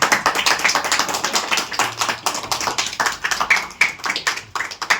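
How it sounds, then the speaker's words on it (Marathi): A group claps hands in quick rhythmic bursts at a family betel-nut ceremony marking a brother's engagement, with loud, close claps repeating throughout at a lively, uneven pace. "अरे टाळ्या वाजव."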